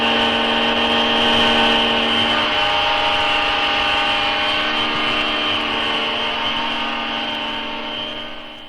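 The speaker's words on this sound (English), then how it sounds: "hydraulic test system drives a helicopter test stand transmitting 250 horsepower" A helicopter gear transmission driven by a hydraulic test system on a test stand, carrying 250 horsepower, whines loudly and continuously with steady tonal gear mesh over a mechanical drone, easing slightly toward the end.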